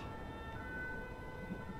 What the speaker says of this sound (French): Les pompiers qui arrivent, hein, vous inquiétez pas.